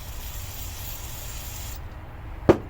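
Carb cleaner sprayed onto a Yamaha Raptor carburetor, a steady close hiss lasting nearly two seconds that stops abruptly, then a short sharp knock near the end.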